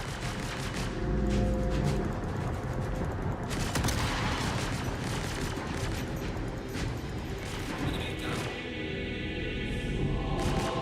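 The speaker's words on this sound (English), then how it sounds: "It's like a quad laser." A quad laser turret in Star Citizen fires sustained rapid volleys, a dense, loud crackling barrage with punchy low thumps and bright zaps layered over a ship's hum, continuous for the whole stretch.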